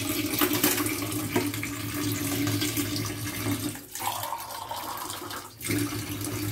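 Close, steady water runs from a kitchen tap into a sink while dishes are washed at home. The flow briefly dips twice, with no talk over it.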